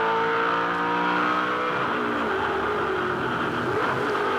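A 2005 V8 Supercar races at the Shanghai International Circuit, its engine roaring loud and close as it accelerates hard, the pitch climbing steadily.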